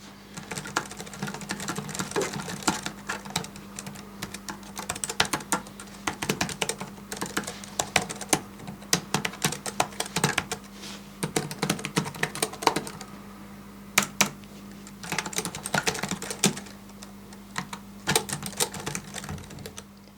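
Keys clacking steadily on a Cherry DW 9100 Slim wireless keyboard, a close, continuous patter of typing in bursts with brief pauses, no voices over it.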